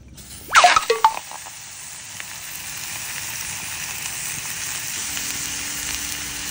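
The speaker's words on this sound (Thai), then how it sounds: "นี่เราก็ทำการรวนซะก่อนนะครับทุกคน" Bird meat stir-fried in a pan for Thai kaeng om curry, a sharp hiss and clatter as it hits the pan, then a loud, steady sizzle that continues to the end.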